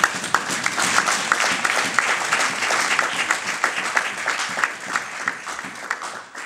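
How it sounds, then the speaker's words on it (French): A church congregation applauding during a sermon, a dense, sustained wash of many hands clapping from a large crowd, loud and steady throughout with only faint voices within it. "Est-ce que nous pouvons applaudir la parole du Seigneur?"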